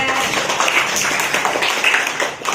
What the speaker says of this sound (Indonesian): Oke, tepuk tangan buat Ade.